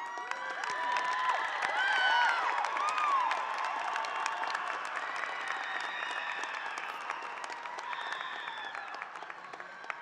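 High school graduation audience applauds steadily in a large hall, a sustained wash of clapping with scattered cheers that slowly tapers off.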